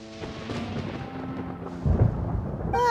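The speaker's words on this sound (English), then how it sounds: "Paimon hears thunder!" Thunder rolls in the video game Genshin Impact, a long low rumble that swells and booms before a bright tonal game chime rises at the end.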